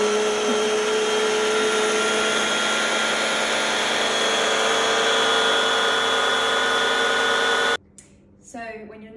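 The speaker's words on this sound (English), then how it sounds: "I turn a blender on like this." A loud, steady motor whine of a blender blending nuts and water, running continuously for several seconds, then cutting off abruptly, followed by a brief voice.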